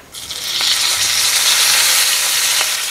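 Mustard seeds, hing and curry leaves sizzle loudly in hot oil for a sambar tempering, a steady close crackling hiss that starts abruptly and holds with faint pops throughout.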